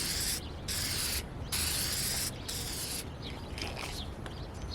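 An aerosol spray paint can hisses in several bursts of steady, broadband spray separated by short pauses, loud and close, with no talking.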